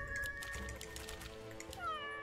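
A cat meows clearly in the video game Legion TD 2, a couple of drawn-out meows standing above a steady layer of game ambience, with no talking.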